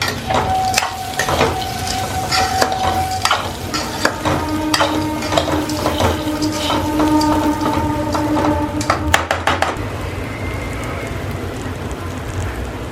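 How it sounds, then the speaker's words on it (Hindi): Sugar syrup (chashni) for gulab jamun boiling in a pan on a gas stove, a loud, close, continuous bubbling and crackling with sharp pops and a few clinks, no voices. "और ये बन रही है हमारी चाशनी। बॉईल ऑलरेडी आने लग चुका है।"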